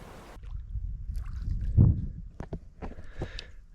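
Kayak paddles dip and stroke through water while paddling across a reef, giving irregular splashes and gurgles with a louder splash near the middle, over steady low wind-like rumble.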